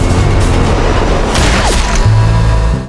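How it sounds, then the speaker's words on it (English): Dense, continuous rapid gunfire and booming explosions in a post-apocalyptic zombie video game roar together in a loud, chaotic barrage with no pauses. "The gunfire is just too chaotic."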